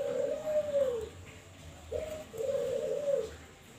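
White albino turtle doves cooing near a nest, a soft low coo followed after a pause by a two-part coo, close and clear over a quiet background.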